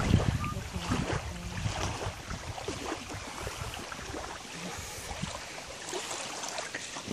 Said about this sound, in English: Someone's boat.